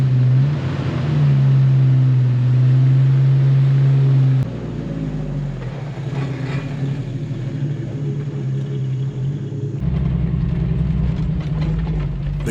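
An old Jeep with tall 3.07 gearing and 32-inch tires pulls away in first gear before it has warmed up, its low engine drone steady and loud at first, then dropping and rising again through the shift, with mechanical rattles over the top.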